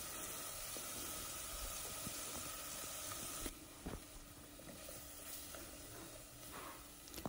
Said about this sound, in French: Nous faisons bien revenir notre viande. Ici, nous y ajoutons nos morceaux d'oignon.